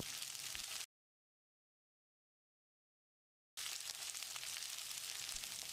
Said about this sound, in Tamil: ஒரு முருங்கைக்காயில் தோல் எடுத்து நறுக்கி வச்சிருக்க, இதையும் போட்டு மறுபடியும் 1 நிமிஷம் வதக்கிடலாம்.